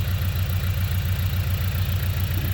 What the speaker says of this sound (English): the engine is choking